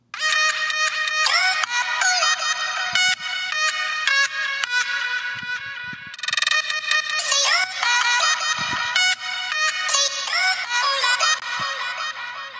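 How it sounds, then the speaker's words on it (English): Future bass vocal chops pitched up an octave, bright and synthetic, bounce in choppy rhythmic bursts across a heavy electronic track, loud and up front throughout. "I just take the same vocal chops I did, move them down, pitch them up an octave"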